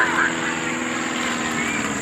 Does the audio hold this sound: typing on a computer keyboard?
no